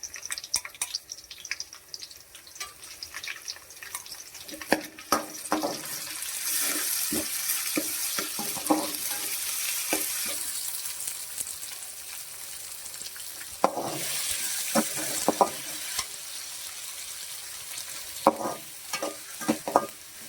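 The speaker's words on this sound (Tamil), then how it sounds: "வெங்காயம் நல்லா வதங்கிட்டு இருக்கு" Chopped onions sauté in hot oil in a pan for a prawn gravy, a steady close sizzle broken by repeated scraping stirs of a spatula, with no talking.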